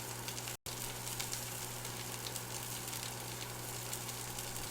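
Pork for pulled pork browning in a pan gives a steady, fairly quiet sizzle over a low hum, broken by one brief dropout near the start.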